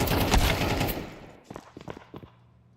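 AK rifles fire in a Counter-Strike match: a dense, loud burst of automatic gunfire, then several shorter, sharper volleys that trail off toward the end.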